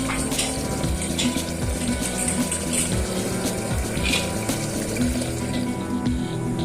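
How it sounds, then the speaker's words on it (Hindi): Water pours steadily into egg curry cooking in a pressure cooker pot, a continuous splashing gush heard up close without interruption. "2 मिनट पकाने के बाद इसमें हम पानी को ऐड करेंगे।"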